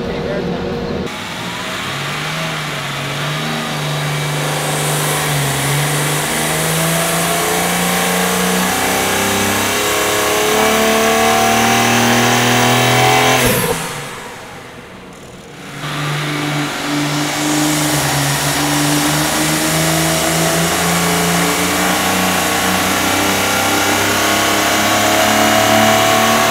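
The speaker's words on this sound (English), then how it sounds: "So we have finished dyno testing of both the stock intake and the Mishimoto intake." A BMW G80 M3 engine revs hard on a dyno with a Mishimoto performance intake, loud and sustained with climbing and falling pitch, a brief dip to a quieter lull midway before winding back up strongly.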